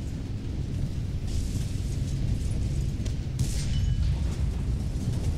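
Cannon fire from an Sd.Kfz. 234/2 Puma armored car in the War Thunder video game, sharp blasts breaking through a constant, heavy low engine rumble.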